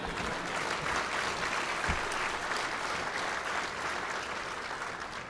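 Audience applause at the State of the Coast Symposium 2025, a steady, dense wash of clapping from a large crowd that holds evenly for about five seconds and tapers slightly at the end.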